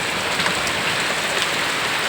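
Heavy rain pouring down in Andhra, a dense, steady hiss of drops hitting surfaces, loud and close with no voices.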